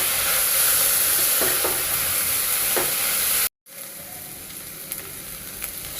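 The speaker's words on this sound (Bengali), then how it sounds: "একটু দিয়ে ভালোভাবে একটু তেলের সাথে ভেজে নিব" Dried fish frying in oil in a home kitchen pan gives a loud, steady sizzle with a few stirring scrapes, then cuts out abruptly and returns as a quieter crackle.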